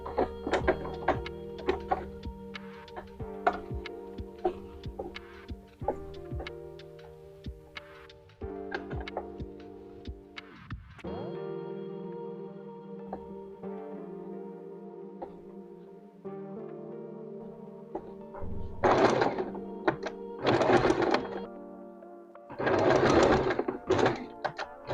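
Sewing machine stitching along a mattress cover for a baby cradle, running in steady mechanical bursts with brief pauses and clunks between seams, fairly close and moderately loud, with no talk over it.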